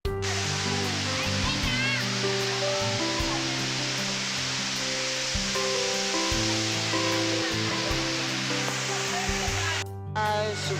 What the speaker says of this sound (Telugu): సూపర్ ఉంది వాటర్ ఫాల్స్.